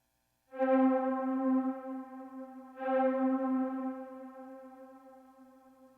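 Trap synth preset from the Maschine Pure Drip expansion: two sustained, rich harmonic notes, the first entering after a half-second of silence and the second starting near three seconds, each holding steadily before slowly fading.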